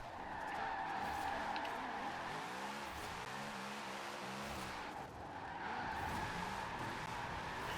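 Car drifting through tight corners in Forza Horizon 4, a loud, sustained engine drone with wavering tire squeal rising and sliding in pitch, holding steady for the whole stretch with a brief dip midway.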